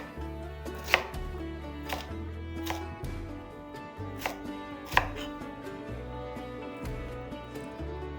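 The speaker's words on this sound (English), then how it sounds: "I'm just gonna cut it into small enough pieces where it will boil and get tender" Knife chopping golden beets into small pieces on a cutting board, with sharp, evenly spaced thuds about once a second over a steady low background hum, close by and without speech.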